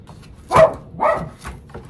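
A Yorkie barks at squirrels inside a house, giving three or four sharp, close yaps in an uneven rhythm, with no other sound around them.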